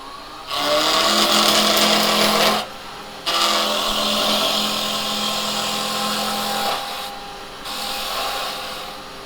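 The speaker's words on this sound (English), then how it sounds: "Just using my 1-inch roughing gouge that I put a fingernail grind on." Wood spins on a lathe as a 1-inch roughing gouge with a fingernail grind cuts it, a steady rough scraping hiss with a low hum beneath, broken by brief pauses.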